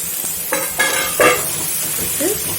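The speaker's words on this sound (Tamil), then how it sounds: "நல்லா வதக்கி விட்டுருங்க" White pumpkin pieces being sautéed with small onions in a pan, a steady sizzle with a few scraping stirs of a spoon against the metal, close and fairly loud.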